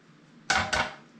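Two eggs cracked one after another against a bowl for gluten-free bread dough in a home kitchen, two sharp close taps about a quarter second apart, each with a brief crunchy rattle of shell.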